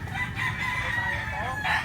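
A gray gamecock with green leg rings, offered for sale at a fighting-cock market in Cebu, crows once in a long, sustained call at close range, with faint background chatter.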